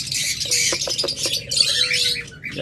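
A pair of caged greenfinches kept for sale calls back and forth with sharp chirps and squawks, close by, over a steady background hiss and with no talk.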